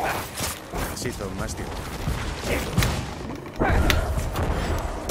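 Explosions burst beneath an enemy's feet during a boss fight in Diablo IV, a busy run of thuds and booms over game music, with someone talking over the action.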